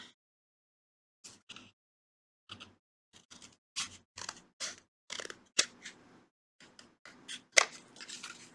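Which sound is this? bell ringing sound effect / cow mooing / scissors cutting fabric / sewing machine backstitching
scissors cutting fabric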